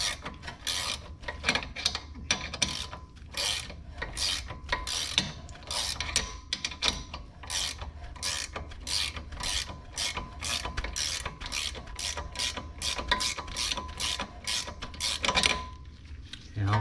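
Ratchet wrench tightening 14 mm rear brake caliper bolts on a Suzuki Kizashi: a long run of rapid, evenly spaced clicking ratchet strokes, close and crisp, with brief pauses between bursts.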